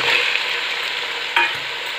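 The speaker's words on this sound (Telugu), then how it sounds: "ఈ విధంగా వేగిన తర్వాత ఇప్పుడు ఇందులో చికెన్ వేయాలి" Half a kilo of chicken sizzles steadily in a hot pan while being stirred, with a continuous close frying hiss and a brief scrape of the utensil partway through, and no voices.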